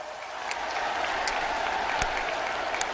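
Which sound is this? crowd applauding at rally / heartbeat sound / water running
crowd applauding at rally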